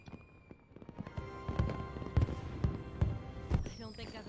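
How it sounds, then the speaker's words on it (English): Fireworks exploding in the video game MapleStory, a series of sharp booms and crackling bursts at an uneven rhythm that builds in intensity, with game music sounding underneath. "I've never seen fireworks from a place like this before."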